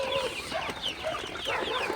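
Sonali super hybrid chickens clucking softly through the night, a steady overlapping murmur of short calls from several birds close by, with no talking.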